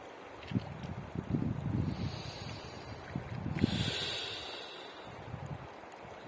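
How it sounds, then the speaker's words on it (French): A steady broadband rush of flowing river water, with low rumbling surges and a brief brighter swell partway through; no voices. "Concentrez-vous sur le son de la rivière"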